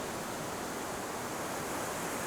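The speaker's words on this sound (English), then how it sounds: "Can you hear the waves?" Ocean waves make a steady, broad wash of surf noise, continuous and fairly even in loudness with no speech over it.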